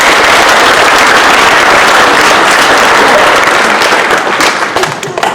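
Loud, dense applause from a big crowd at a junior high year-end awards ceremony, sustained throughout and tapering slightly at the very end.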